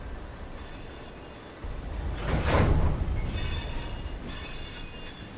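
A train rumbles along in the Run 8 simulator, a steady low roll of wheels on rails that swells into a louder, brighter passing surge midway and then settles back, with no voices.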